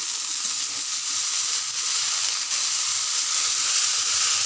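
Chopped radish greens hitting a hot pan of potato and eggplant and being stirred, giving a steady, close, bright sizzle and hiss that holds without a break.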